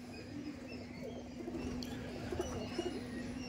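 A tournament-bred pigeon coos softly in a few short repeated phrases, faint and close, set against a steady low hum.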